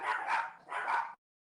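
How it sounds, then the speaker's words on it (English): Two quick barks from dogs roaming off the chain, fairly close and loud, followed by sudden silence. "It's goddamn dogs, man."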